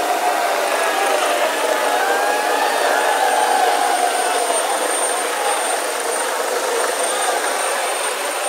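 A helicopter at an outdoor political campaign rally in Maharashtra gives off a loud, steady rotor and engine roar that fills the whole stretch without a clear fade.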